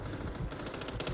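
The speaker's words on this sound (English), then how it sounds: "I'm taking fire!" Rapid automatic gunfire from a video game shooter, a loud continuous burst of closely spaced shots with no talk over it.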